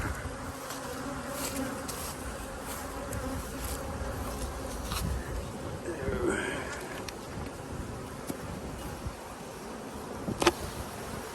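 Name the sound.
honeybees buzzing around hive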